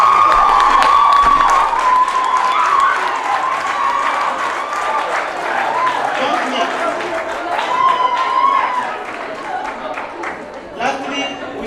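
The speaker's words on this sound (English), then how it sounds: "a very big round of applause and excitement as Franco." Audience at a school ceremony in Karubanda applauding and cheering, a sustained wave of clapping with shouts and whistles that stays loud before easing slightly toward the end.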